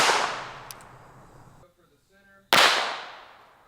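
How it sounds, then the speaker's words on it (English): .22 Long Rifle rounds fired from a Ruger Mark IV Lite pistol outdoors: two sharp, loud cracks about two and a half seconds apart, each trailing off into a brief decay, with a faint voice in the gap. "First caliber is the .22 long rifle. Ruger Mark IV Light."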